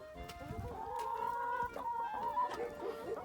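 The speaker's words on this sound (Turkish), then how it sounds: "Merhaba tavuklar." Chickens on a farm cluck and murmur steadily nearby, a drawn-out warbling call running through the middle, against quiet outdoor background.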